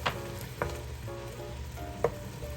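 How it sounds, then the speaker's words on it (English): Minced garlic frying in a pan while being stirred, cooked for an Italian kale and beans dish: a steady, moderate sizzle with a few soft utensil taps and scrapes, close and without talk. "Now I'm going to add my minced garlic. We'll stir that around."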